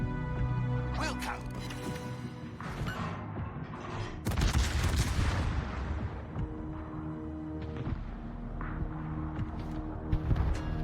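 Naval gunfire from a video game battleship battle involving Montana-class ships, heavy booming salvos bursting repeatedly over a dense game soundtrack, loudest midway through, with speech-like voices mixed in.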